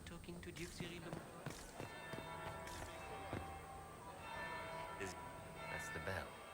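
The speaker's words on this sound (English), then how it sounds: "That's the bell." A church bell tolls slowly in Dragon Age: Inquisition, with a few resonant strikes over a busy, murmuring game soundscape and background voices.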